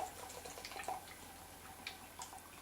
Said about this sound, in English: Right, let's get this poured out. Ah, listen to that.